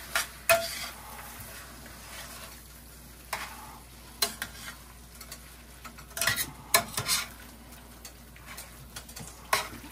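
Pasta tossed through ragù in a pan, with soft scraping stirs and a faint sizzle broken by several sharp clacks of utensil on pan, moderately close, no voices.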